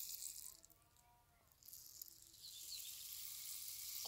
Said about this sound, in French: Tu entends l'eau